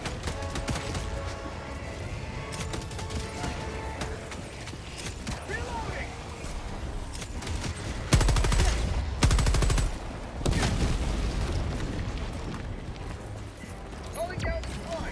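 Gunfire in the video game Helldivers 2: scattered shots and bursts over busy battle noise, with two heavy, loud volleys in the middle and a voice speaking at points.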